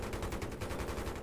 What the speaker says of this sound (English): Like using a heavy machine gun in this game.